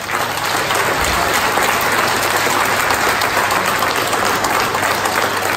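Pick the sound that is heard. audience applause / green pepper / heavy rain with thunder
audience applause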